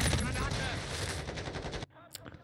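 Dense, rapid gunfire from the video game Modern Warfare 2, on the Shoot House mission at Huay Chivo, rattles close and loud, then cuts off abruptly and leaves only faint scattered sounds.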